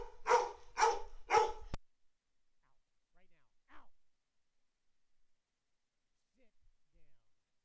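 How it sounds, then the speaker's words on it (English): A pet dog gives three sharp barks in quick succession at close range, then falls silent apart from faint soft sounds. "Stop barking."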